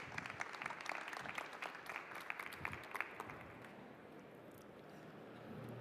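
An audience at a fresh produce industry forum applauds, with a sharp cluster of claps that thins into a softer, fading patter, moderately loud in a large hall with no talk over it.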